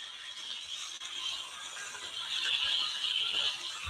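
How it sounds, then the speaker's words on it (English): A small handheld vacuum cleaner runs continuously over a quilt, giving a steady whining hiss with faint scraping as it moves across the fabric. "So I just go over my things with the little vacuum cleaner here"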